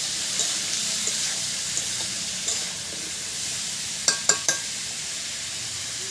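Bhetki fish head and bones with tomato, green chilli and turmeric are stir-fried in a pan. A steady soft sizzle hisses throughout, and near the end there are a few sharp clicks from a spatula tapping the pan.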